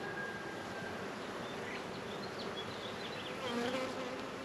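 Honey bees at an open beehive during a honey flow make a dense, continuous buzzing drone that holds steady throughout, with no voices heard.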